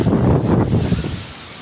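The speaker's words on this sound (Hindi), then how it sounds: "एकदम बढ़िया हवा चल रही है, एकदम ठंडी ठंडी।" Cool wind blowing through a village during rainy-season weather, a loud rushing buffet across the microphone that eases off toward the end, with no talk.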